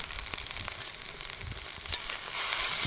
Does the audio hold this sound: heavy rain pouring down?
no